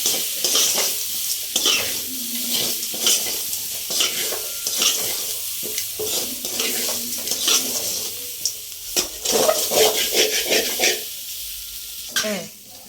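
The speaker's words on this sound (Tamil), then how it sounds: "பூண்டு பச்சை வடை போகிற வரைக்கும் அதை நல்லா வதக்கணும்." Crushed garlic and grated coconut sautéed in a pan for a raw banana stir-fry, with a steady sizzle and frequent scraping stirs throughout, close and fairly loud.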